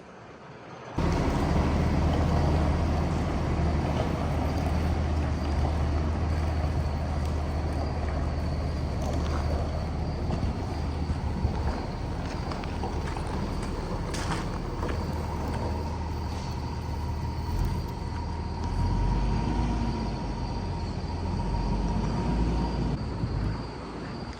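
A semi-truck pulls forward out of a farm shed, a steady low engine rumble running close and continuous with faint higher mechanical whine, no talk.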